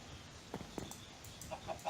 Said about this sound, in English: I gotta keep hitting the chicken.